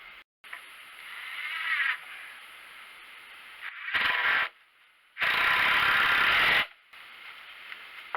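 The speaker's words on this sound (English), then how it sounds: "So now we'll start screwing these in and make sure we're square." A power drill or driver drives screws into wood while a chicken coop frame is built outdoors, giving several loud whirring bursts of differing length separated by short pauses.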